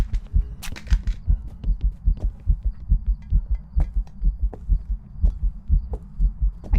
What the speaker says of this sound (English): I can't hear over my heartbeat.